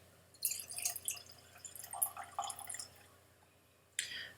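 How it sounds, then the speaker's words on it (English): Canadian whisky from a large, milk-jug-like bottle is poured into a Glencairn glass, with a soft trickling splash for a couple of seconds, a pause, then a brief final pour, quiet and close with no talk. "I'm going to pour me a Glencairn of this"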